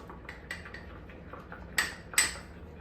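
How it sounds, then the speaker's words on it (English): A spoon clinks and scrapes against a bowl while cake pop mixture is stirred, a series of light irregular taps with two sharper, louder clanks near the end, close and with no talk. "Where's my spoon? I gotta stir this."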